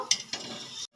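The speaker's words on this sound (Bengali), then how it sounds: "ভালো করে ভেজে নিয়েছি" Shrimp kachori frying in hot oil gives a brief, close sizzling hiss lasting under a second before it cuts off abruptly.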